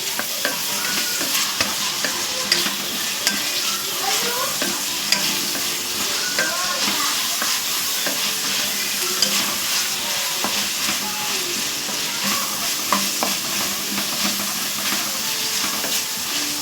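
Onions with salt frying in a pan for a beef dish, a loud continuous sizzle near at hand with repeated scraping stirs throughout and no talking.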